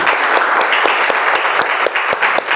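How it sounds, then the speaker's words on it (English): Applause from the audience at a Toastmasters club meeting, a steady dense clatter of many hands clapping close by, sustained throughout with no talk over it. "let's have a round of applause"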